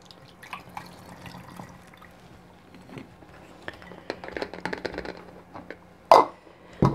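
Water poured into a bottle already holding plaster powder, heard as quiet scattered drips and splashes building up, ending in a sharp louder splash near the end.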